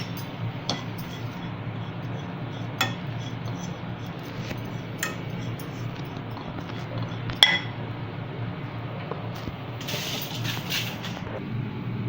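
Dry coconut (khopra) roasting in a pan for a coconut powder podi, with steady low frying hiss, a few scattered scraping and clinking stirs of the spatula, and one sharper metallic clink near the middle.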